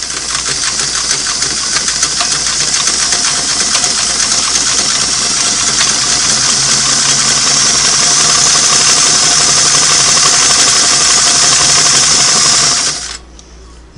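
Singer Model 338 sewing machine sewing a satin stitch, a loud close continuous whirring rattle at steady speed that stops abruptly near the end.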